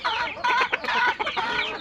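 Native (deshi) chickens clucking on a farm, several close, loud clucks and short calls overlapping in quick bursts, with no talking.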